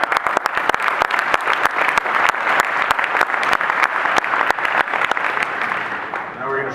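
A keynote audience claps loudly in a large hall, with sharp individual claps over a dense wash of applause. A voice speaks over the clapping near the end.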